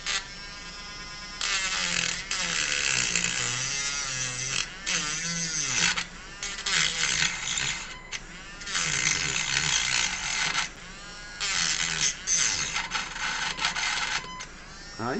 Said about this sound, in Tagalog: Tapos ito ang ating grinder. Subukan natin. Ito sa 3, level 3.